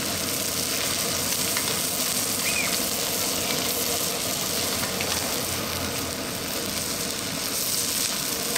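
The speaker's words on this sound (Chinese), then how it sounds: "而家煎牛扒，首先係落油先啦" Steak frying in oil in a pan outdoors on a deck at sunset: a steady, even sizzle that fills the whole stretch at moderate volume, close and continuous, with no talking.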